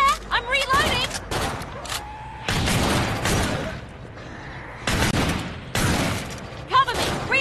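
Rapid video-game gunfire in Endless Mode, bursts of shots in clusters across the span, heard under excited overlapping talk and some in-game effects.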